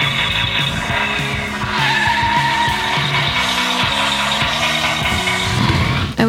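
A toy Hot Wheels shark racer car plays its electronic lights-and-sounds effect, a continuous loud burst of racing engine revving and squealing tires that runs steadily for several seconds with a rhythmic pulsing underneath.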